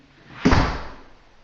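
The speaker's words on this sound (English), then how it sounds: "Close the door behind me." A single solid thud of a door closing in a straw bale house, close by, with a short fading rumble afterward.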